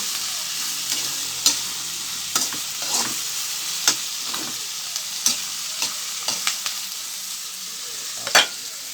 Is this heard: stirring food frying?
yes